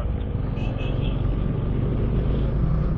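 Steady road traffic with cars and motorcycles: a continuous low engine rumble and broad road noise that stays at an even level from start to finish, with no distinct horns or single passes standing out.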